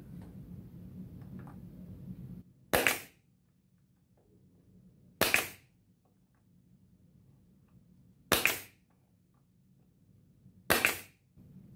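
A staple gun fires four sharp, loud single shots spaced a few seconds apart, fastening material onto a wooden wagon, with quiet room hum and faint handling noise between them.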